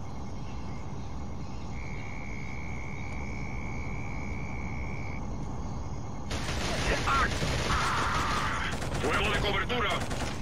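Bursts of rapid gunfire crackle in the video game Killzone after a steady tone and a low rumble, with a voice speaking over the shooting.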